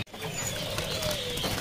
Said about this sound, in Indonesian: di sini juga ada dia burung petet